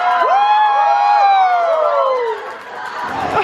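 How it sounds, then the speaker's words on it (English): A theme park show audience at Universal Studios Singapore screams and shouts in loud, rising and falling high-pitched voices, close by, fading briefly near the end before swelling again. "it was worth doing all that screaming and shouting"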